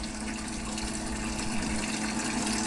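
A pump runs steadily with water flowing through a line that had frozen and was refilled with salted water, giving a continuous close, even gushing hum throughout.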